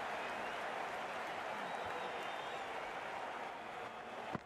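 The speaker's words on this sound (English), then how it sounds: "It's going to be hard for the bowler to focus with the crowd this excited." An excited crowd at an amateur cricket match applauds in a steady, dense patter of clapping that holds for several seconds before easing off, heard from a moderate distance without clear speech.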